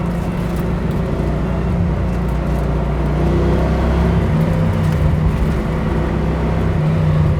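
A 1966 Ford Mustang's engine drones steadily and loudly on a race track, a continuous close roar with slight shifts in pitch as it holds revs, with no talking.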